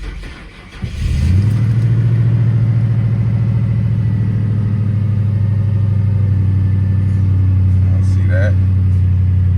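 A turbocharged Ford Crown Victoria V8 cranks briefly and catches, settling into a loud, steady, deep rumbling idle close by, with a few faint clicks and mechanical noises near the end.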